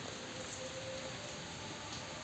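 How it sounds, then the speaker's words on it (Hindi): Steady rain falls outdoors, a soft, even hiss of drops on surfaces that keeps going at low level with no voices heard. "ये देखो बारिश आ गया"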